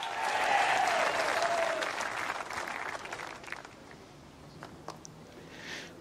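Applause from the home crowd at a men's fours lawn bowls final, New Zealand against Australia, greeting the player introductions: loud, dense clapping that swells early, then thins and fades into scattered claps.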